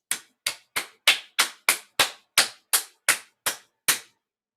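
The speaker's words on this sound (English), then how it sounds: "If you clap your hands about 12 times" Twelve sharp hand claps, close and loud, in an even, steady rhythm with brief silence between each, no voices present.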